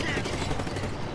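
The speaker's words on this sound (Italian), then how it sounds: "se sparo qui dovrebbe scoppiare qualcosa comunque" Gunfire in the video game Just Cause, a dense burst of rapid shots under an Italian voice talking throughout.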